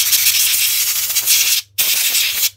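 Compressed air blasts through a cleaned Honda GX160 carburetor in two close, loud hissing bursts, separated by a brief silent gap.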